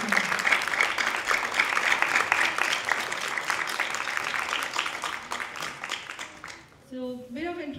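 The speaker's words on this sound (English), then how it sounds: "Please give a big round of applause for this academy." Applause at a charity event, a sustained burst of clapping from an audience that tapers off near the end as a voice begins to speak.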